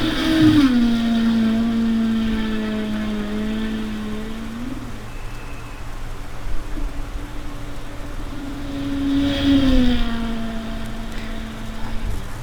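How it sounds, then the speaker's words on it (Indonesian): A racing car's engine roars at high speed, a loud sustained tone that rises, dips and climbs again as it accelerates, with steady broadband road noise underneath and no voices. "Tampak sang sopir itu mengegas kendaraannya sehingga mobil melaju sangat kencang sekali"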